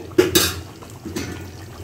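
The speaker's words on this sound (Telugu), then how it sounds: "ఇప్పుడు దీంట్లో మనం 1 గ్లాస్ వాటర్ పోసుకుందామండి." A glass of water poured into a pot of simmering goat head curry gives two brief splashing bursts with light clatter from the pan, close and fairly quiet, with no talking.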